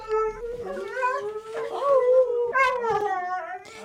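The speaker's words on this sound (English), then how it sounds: "it's time to bring in the dogs" Dogs howl in long rising and falling wails, two or more voices overlapping near and loud, with short yips between the howls.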